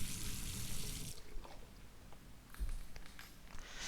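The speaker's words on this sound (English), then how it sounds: "And we'll rinse the plate." A photographic plate is rinsed under running water in The Last Door, a steady faucet splash for about a second, then quieter trickles, drips and small knocks.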